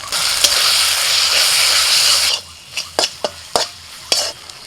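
A spice paste of ginger-garlic paste, turmeric and Kashmiri chili powder sizzles loudly in a pan for chicken, then the frying drops away and a spatula scrapes and stirs in several sharp, separate strokes.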